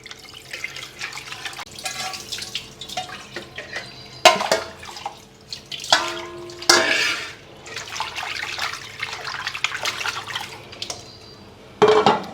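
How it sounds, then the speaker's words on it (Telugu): Running water splashes in a sink with scattered sloshing and clattering as raw prawns are washed by hand, loud bursts and pauses throughout. "రొయ్యలు కడిగేసుకుంటామే"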